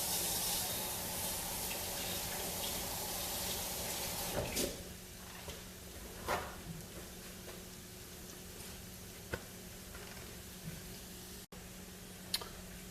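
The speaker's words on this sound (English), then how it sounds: "I'm going to wash these hands up real quick" Tap water runs in a steady hiss as hands are washed at a kitchen sink while cooking shrimp and grits. The flow stops after a few seconds, leaving faint drips and small clinks.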